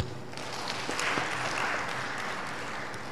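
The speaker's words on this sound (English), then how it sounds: "Would we give one round of applause" A conference hall audience applauds after keynote paper presentations at a national science and technology exhibition, a faint, diffuse spread of clapping that swells slightly midway and then holds steady.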